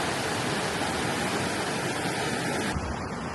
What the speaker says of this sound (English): So are these the 7 waterfalls?